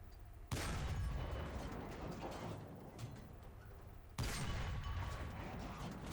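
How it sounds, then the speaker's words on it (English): Two loud 37mm tank cannon blasts in a video game, one near the start and another about halfway through, each followed by a rumbling tail of echoing noise. "Okay, so here is the 37mm cannon."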